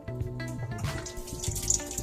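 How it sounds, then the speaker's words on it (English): Water runs and splashes into a dishwasher tub in a steady stream, close and moderately loud, with a low hum underneath; the door switch is bypassed. "there's water entering the tub, like it's supposed to"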